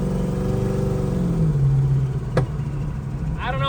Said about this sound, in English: so we're driving the truck with the turbo and everything